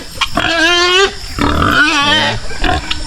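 Loud pig squeals and grunts close by on a free-range farm, a long harmonic squeal followed by a second cry and shorter grunts, with no talking.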